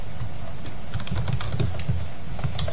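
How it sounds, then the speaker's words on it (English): Typing on a computer keyboard, a quick scatter of light key clicks over a steady background hiss, close and moderately loud. "click on the screen and start typing"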